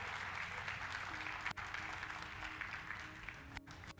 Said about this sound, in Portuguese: dê um aplauso a esse Deus maravilhoso